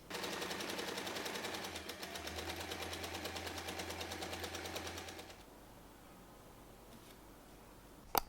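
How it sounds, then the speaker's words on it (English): A sewing machine top stitches along the folded edge of a tote bag pocket, running in a fast, steady mechanical patter for about five seconds before stopping, with a brief click near the end. "we will top stitch along the folded edge on the opposite side to give the pocket a clean finish"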